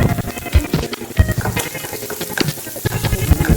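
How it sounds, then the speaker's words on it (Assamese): Onions sizzle and crackle in a hot pan, a dense continuous frying hiss with scattered pops. "পিঁয়াজখিনি মিডিয়াম আঁচতে ভাজিব লাগিব"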